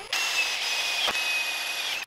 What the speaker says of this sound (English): Drill two holes.